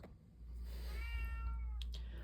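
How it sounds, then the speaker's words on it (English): A cat lets out a single drawn-out meow close by, over a steady low indoor hum. "He just started meowing again."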